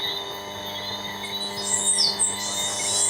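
Bananaquit on Saba giving a rasping, high-pitched call: thin, scratchy high notes that repeat over a steady background hum, fairly faint, with no talk.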